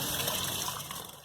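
Water gushes steadily as it is poured over grains being washed for Kunun Zaki, a Nigerian millet drink, a loud, continuous splashing rush that tapers off at the end.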